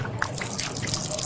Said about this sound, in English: Here, you can pour it out.